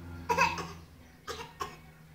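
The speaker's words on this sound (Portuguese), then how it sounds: "Tá com tosse?" Someone coughs nearby, one wet cough followed by two shorter ones in quick succession, against quiet background hum.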